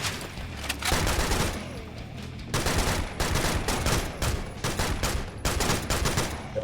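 Rapid, repeated gunfire crackles through a snowy castle level of the shooter game Serious Sam Siberian Mayhem during a sniper duel, with shots coming in irregular clusters throughout at moderate loudness.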